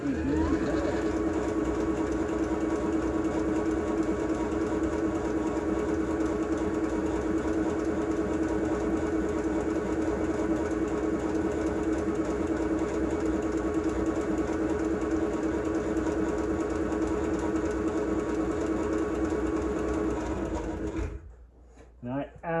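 A sewing machine runs fast and steadily while stitching leather-style chaps, a continuous close mechanical whir that holds for about twenty seconds before stopping abruptly.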